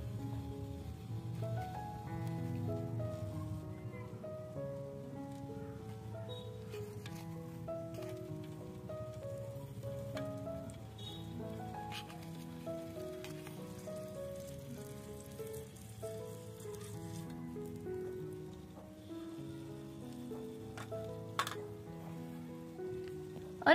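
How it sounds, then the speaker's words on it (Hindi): Fish frying in hot oil on a flat tawa griddle, a faint steady crackling sizzle running throughout beneath prominent melodic background music. "और इधर राधा तावे में मछली फ्राई करने लगती है।"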